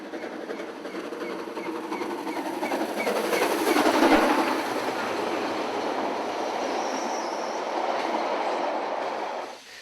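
A train rolls past steadily through Te Awamutu, New Zealand, for the whole stretch, a broad rumbling roar with clattering wheels that swells in the middle and fades slightly at the end.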